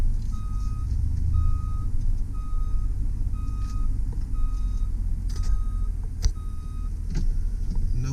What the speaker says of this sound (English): it does have the reverse warning